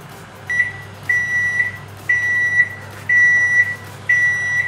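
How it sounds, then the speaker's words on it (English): A kitchen oven gives its preheat signal: five evenly spaced electronic beeps, each about half a second long and roughly a second apart, clear over a low steady hum. "You will hear a beep sound from your oven, which tells you that your oven has now been preheated."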